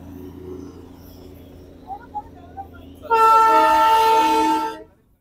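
On the Darjeeling toy train near Batasia Loop, faint rumbling and a few light knocks lead into a loud, sustained horn blast lasting about two seconds before it cuts off.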